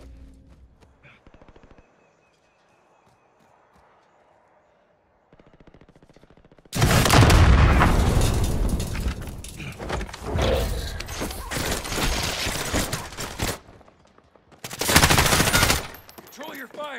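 Bursts of automatic gunfire in the video game Warzone, a quiet stretch of faint clicks and shuffles giving way to a long loud volley, a short pause, then another sharp burst, with voices calling out during the action.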